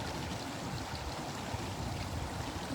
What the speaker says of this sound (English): I'm right next to his waterfall.